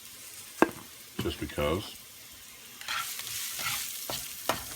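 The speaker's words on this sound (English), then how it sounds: "we're just going to saute this down a little bit" Beef sautés in a pan with a soft, steady sizzle, broken by the scrape and clatter of stirring, while a voice speaks briefly over the cooking.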